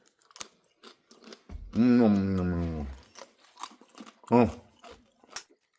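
Crunchy homemade dehydrated banana chips are chewed up close, with crisp bites and crunches scattered through, while a person speaks and makes a drawn-out vocal sound.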